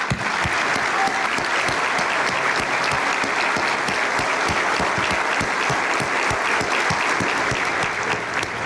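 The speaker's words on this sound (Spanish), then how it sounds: "lo hagamos en un minuto de aplausos dedicados a la memoria de Chucho Benítez" Crowd at an Ecuadorian football stadium holds a minute of applause in memory of Chucho Benítez, a steady, dense roar of clapping that stays even and loud throughout.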